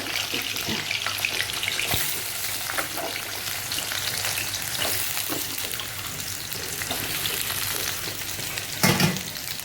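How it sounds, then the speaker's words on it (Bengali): Pumpkin frying in hot oil for a prawn and Malabar spinach dish, a loud steady sizzle with crackling spatters and a sharp burst near the end, no talk. "কুমড়োটা ভেজে নেব।"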